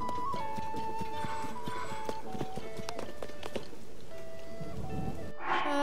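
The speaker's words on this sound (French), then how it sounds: "Et en plus il pleut, super." Rain falls in the video game Zelda: Tears of the Kingdom, a steady patter that runs under game music, clip-clopping hooves and faint rumbles, ending with a brief louder burst.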